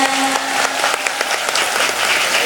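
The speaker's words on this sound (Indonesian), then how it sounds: "Saya minta tepuk tangan dulu dong buat panitianya" Dense, steady applause from an audience at an evening Quran study gathering in Bengkal, Kranggan, Temanggung, honouring the organizing committee; loud and continuous throughout, with no talk over it.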